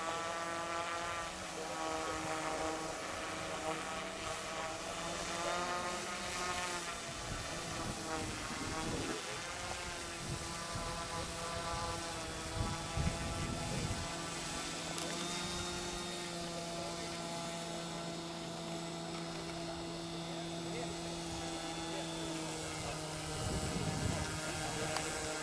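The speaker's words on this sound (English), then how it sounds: "Just has to taxi now." An F4B aircraft taxis after landing, its engine droning steadily with a constant tonal hum and faint rumbling shifts as it rolls along the ground.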